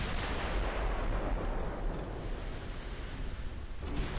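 A warship explodes in the naval battle game Ultimate Admiral: Dreadnoughts, a dense rumbling blast that roars steadily with surf-like washing noise and slowly eases, loud and without speech.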